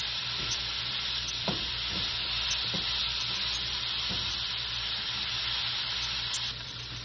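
Sausage frying in oil in a pan, a steady loud sizzle throughout with a few soft scrapes of stirring near the start.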